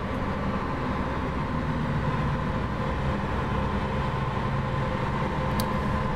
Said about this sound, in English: Watch our train go.